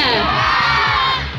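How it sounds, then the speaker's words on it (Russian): A crowd of children shouts one word together at a Kharkiv international marathon's kids' race, a loud, sustained collective cry with cheering, close and dense, tapering slightly at the end. "вы все громко кричите «Я!»"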